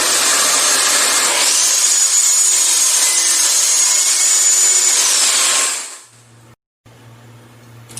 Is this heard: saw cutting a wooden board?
yes